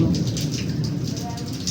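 Rain pours steadily in Port Harcourt, a dense, even hiss of drops on surfaces that fills the whole moment without pause, close and fairly loud.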